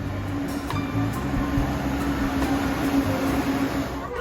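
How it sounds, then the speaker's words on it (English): Interior of a busy passenger train in Laos, a steady rumbling drone with a low mechanical hum and faint rattles running evenly throughout. "Made it onto the train."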